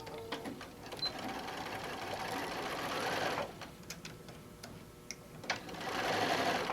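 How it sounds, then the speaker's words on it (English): Sewing machine running a half-inch seam across a quilted pouch made from a panel, a steady close motor whirr with a brief pause and a few clicks before it picks up again. "we're going to do our 1/2-inch seam. And we're just going to stitch across."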